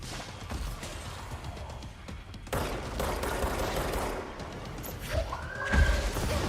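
Guns fire in the video game Control: bursts of rapid, loud shots in quick succession over a rumbling combat background, ending in a heavy impact thud.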